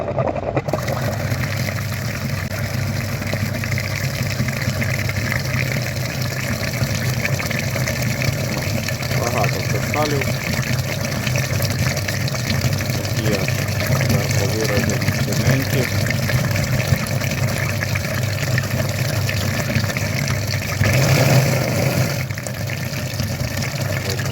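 Pump pushing flushing liquid through the heat exchangers of a KIA Soul EV or Hyundai Ioniq 28 cooling system, a constant loud mechanical whir and rush of fluid with a voice talking over it.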